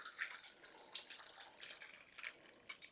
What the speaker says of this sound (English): Just going to strain it right into this bowl.